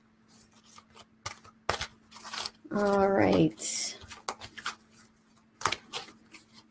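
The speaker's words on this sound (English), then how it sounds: "here are the cards here. I'm just going to shuffle them a little bit" A brief riffle of cards being shuffled, a short rapid flutter amid quiet handling noises and a few soft taps, with a voice speaking briefly.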